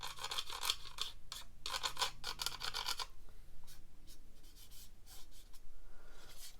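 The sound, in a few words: pencil side shading model kit nuts and bolts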